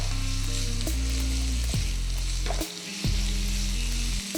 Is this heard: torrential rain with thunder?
no